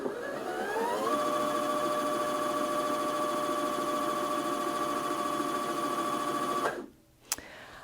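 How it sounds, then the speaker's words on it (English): A Janome Atelier 6 Anniversary Edition sewing machine winds a bobbin with a steady, close motor whir that runs for several seconds, then stops abruptly with a single sharp click afterward. "use the start stop button to start winding the bobbin"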